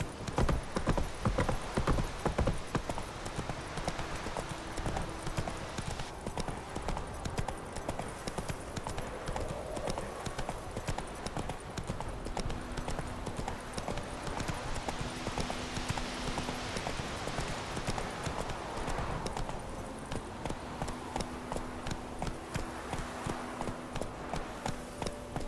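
Steady, rhythmic hoofbeats of the horse Roach galloping in The Witcher 3: Wild Hunt carry on for the whole stretch, with a brief whinny-like tone and an even, continuous pace.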